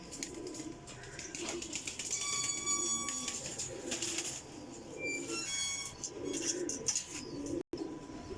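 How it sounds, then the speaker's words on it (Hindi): Kasuri pigeons, a netted champion breed, coo in repeated low throaty bursts close by, mixed with chirps, a brief flutter of wings and scattered higher bird calls. "जालदार कसूरी कबूतर है माशाल्लाह जी"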